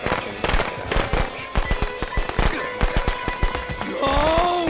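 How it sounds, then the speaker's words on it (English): A firecracker string going off in Friday the 13th: The Game, a rapid crackling series of sharp pops lasting several seconds, with game effects rising at the end. "he gets firecrackered"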